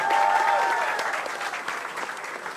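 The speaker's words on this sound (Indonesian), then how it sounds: "Tepuk tangan sekali lagi buat Awe yang paling kenceng mana tepuk tangannya." A stand-up comedy audience gives a comedian a burst of applause and cheering. The clapping is loud at the start and fades slightly, with a faint whistle early on.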